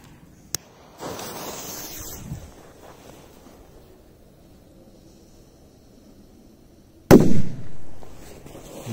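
A sharp firecracker bang bursts out after a quiet stretch, followed by a rumbling, crackling tail; an earlier faint pop and whooshing hiss precede it.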